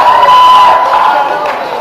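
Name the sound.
audience applauding and cheering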